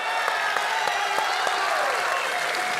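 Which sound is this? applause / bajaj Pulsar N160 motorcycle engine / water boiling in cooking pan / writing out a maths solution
applause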